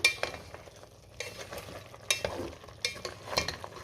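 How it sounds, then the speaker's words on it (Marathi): Mutton curry stirred in a pot for a village-style rassa: soft, intermittent scraping strokes at close range, with faint sizzling underneath between the strokes. "आता पुन्हा सगळं व्यवस्थित मिक्स करून घेऊया"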